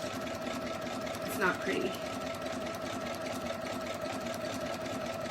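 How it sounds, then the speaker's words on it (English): A sewing machine with a walking foot feeds and stitches a quillow at a steady hum, its motor running continuously while a person talks over it. "Just let your machine feed. It's feeding both sides because we've got the walking foot, so it should feed pretty evenly."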